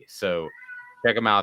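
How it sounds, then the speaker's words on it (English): A pet cat meows once at close range, a short tonal cry between bursts of someone talking. "That was my cat."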